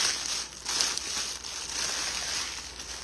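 Paper crinkling and rustling continuously at close range as wreath decorations are unwrapped from their paper, with brief louder crunches scattered throughout.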